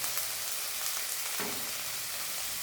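Green peas frying in a wok for a poha and groundnut snack, a dense, even sizzle with a faint stir partway through, no voices.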